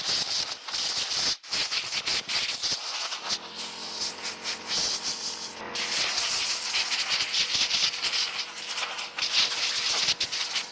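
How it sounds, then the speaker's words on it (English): Compressed air hisses in long, close bursts as it blows debris off leather work boots. Loud airy rushes are broken by brief pauses and handling noises, with no voices. "So I'm going to start with an air compressor and blow them off."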